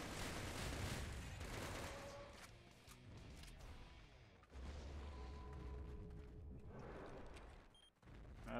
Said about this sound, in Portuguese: Fica mais forte o tiro aqui.